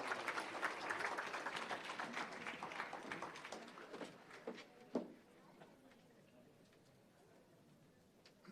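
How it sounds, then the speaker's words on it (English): Applause from an audience at a scholarship awards ceremony, steady clapping that fills the room for several seconds and then fades, with a brief louder clap or knock near the end; some speech-like murmur is mixed in. "Let's give them all a big round of applause."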